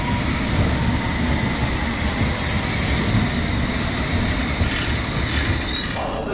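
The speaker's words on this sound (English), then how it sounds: "The gap between the train and the platform." A London train runs through at a platform with a steady loud rumble of wheels on rails, metallic rattling and a faint squeal near the end, with no voices.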